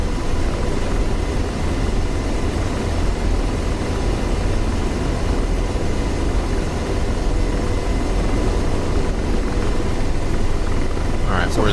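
An attack helicopter armed with Hellfire missiles flies in a video game, its rotor and engine roar forming a loud, steady, unbroken drone that fills the whole stretch, with no voices.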